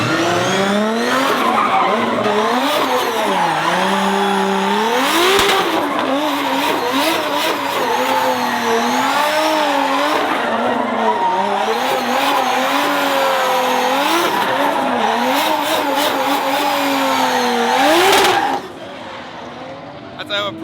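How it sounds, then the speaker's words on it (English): A drift car does a burnout in the burnout box at a UAE drift event, engine revving hard and tires squealing continuously for about eighteen seconds before cutting off. "this is just the burnout box, not even a competition"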